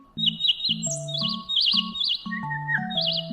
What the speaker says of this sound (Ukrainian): Ось пташка співає